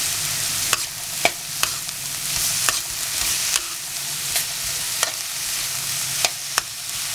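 Tomatoes stir-fried in a pan for veg kothu parotta, a continuous close sizzle punctuated by regular sharp scrapes of a utensil stirring, with no talk.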